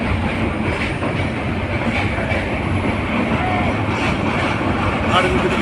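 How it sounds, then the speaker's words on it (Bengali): An intercity train crossing near the century-old Hardinge Bridge at Paksey, a loud continuous rumbling roar with rhythmic wheel clatter heard close by, steady throughout. "ইতিমধ্যে ট্রেন চলে এসেছে ট্রেন যাচ্ছে"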